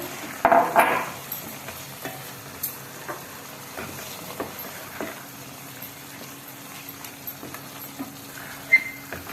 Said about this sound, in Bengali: আমাদের মশলা থেকে তেল ছেড়ে দিয়েছে এবার আলুগুলো দিলাম যে আলুগুলো ভাজা ছিল